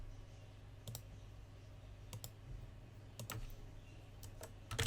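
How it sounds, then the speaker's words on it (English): Keys clicking on a computer keyboard in small bursts of two or three strokes, fairly quiet in a still room, with no talking. "And then type in our domain information."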